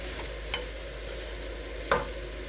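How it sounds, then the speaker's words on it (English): Potatoes and onions sautéing in a soup pot for a simple vegetable soup, a steady soft sizzle with two brief scraping stirs of a spoon, close and quiet, no voices. "Saute these potatoes and onions up"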